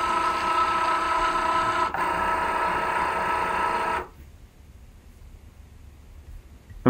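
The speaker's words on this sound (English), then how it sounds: "now I'm going to load my card into the Cricut Joy." A Cricut Joy cutting machine whirs steadily as it loads a greeting card, a constant motor hum with a brief dip partway, then stopping abruptly and leaving near silence.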